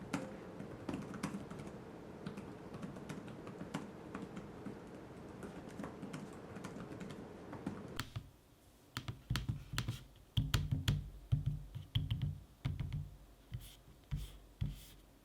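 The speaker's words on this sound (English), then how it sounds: "here is a quick sample of me using the keyboard and trackpad from an audio standpoint so you can hear it for yourself" Typing on an Acer Swift 3 laptop keyboard and trackpad gives quiet, rapid key clicks at first, then after a pause louder, more spaced taps and clicks, heard close up and alone.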